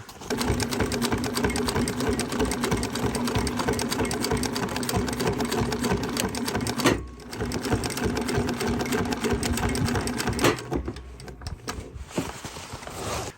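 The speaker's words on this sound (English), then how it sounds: "Now we're going to come around to the other side, and we're going to sew these up." Sewing machine stitching the side seams of a canvas utility bag, a loud steady rapid mechanical whir that pauses briefly midway, resumes, then stops near the end.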